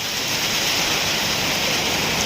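A summer storm lashes Mukdahan province with heavy rain and strong wind, a dense, loud, unbroken roar of downpour and gusts filling the whole moment with no voices.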